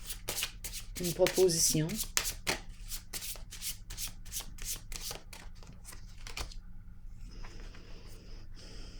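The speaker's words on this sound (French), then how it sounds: "je vais piger une autre carte" Playing cards are drawn and shuffled in a rapid run of crisp flicks and riffles close by, broken by brief pauses, as someone speaks over them now and then.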